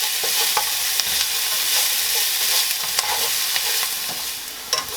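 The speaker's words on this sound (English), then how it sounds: "we're going to saute these on the oil until they are translucent" Onions sautéing in oil in a skillet for chicken cacciatore give a steady, close sizzle throughout, with occasional scrapes and clicks of stirring; no one speaks.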